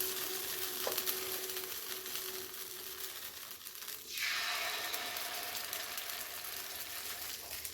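Batter for chitoi pitha poured onto an oiled pan over a low gas flame, giving a steady close frying hiss that swells partway through as the batter hits the hot surface.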